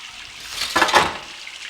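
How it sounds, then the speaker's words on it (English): Shower water running, a short hissing rush of spray that swells to a peak in the middle and then eases off, close and fairly loud with no voices. "hide in the shower while it's running"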